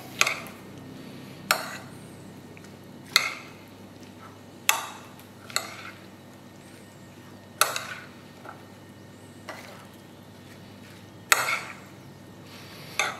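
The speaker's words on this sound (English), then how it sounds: "stir it well" A spoon stirs Shirazi salad, the Iranian chopped cucumber, tomato and onion dish, in a bowl. About a dozen sharp clacks against the bowl come at uneven intervals over a low hum of chopped vegetables shifting, with no speech.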